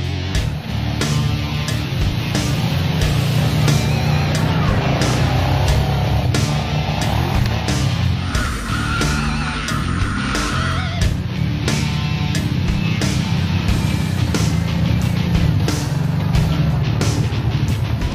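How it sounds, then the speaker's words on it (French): A 2014 Kawasaki Brute Force EPS 750 ATV engine runs and accelerates, a continuous loud low-pitched motor drone with shifting tone throughout. "La motorisation 750 répond à l'effleurement de l'accélérateur"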